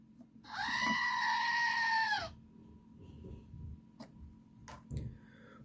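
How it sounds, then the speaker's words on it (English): A screaming goat toy held by a Transformers SS 86 Scourge figure lets out one loud, sustained bleating scream of about a second and a half, followed by faint handling clicks and soft rustling. "Here is Scourge with a screaming goat."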